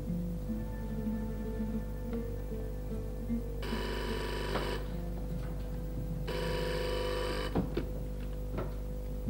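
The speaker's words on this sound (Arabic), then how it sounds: "تعال رد على الهاتف" Telephone rings in two loud bursts of electronic ringing, separated by a pause, over a steady low hum in an indoor scene from a children's television episode.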